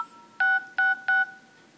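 Three short telephone keypad tones entering a voicemail password, evenly spaced clean beeps with a faint background hiss.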